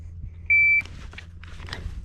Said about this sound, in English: So just when I hear the beep.